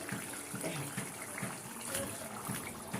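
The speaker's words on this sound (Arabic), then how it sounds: "اصفيها وهشطفها تحت الحنفيه برده في المصفى" Kitchen tap water running over okra in a strainer, a steady splashing gush at low level with a faint voice in the background.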